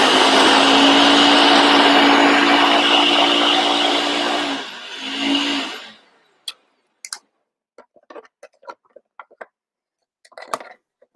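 A blender-style food processor pulses chunky oat crumble dough for apple spice crumble bars, running loud and steady for about five seconds, briefly revving again, then stopping, followed by scattered light clicks and taps.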